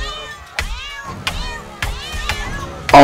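Mr. Kitty the cat in South Park: The Stick of Truth gives four or five high, sweeping meows at a steady pace, each rising and falling in pitch, then a sudden loud burst of game noise closes the moment.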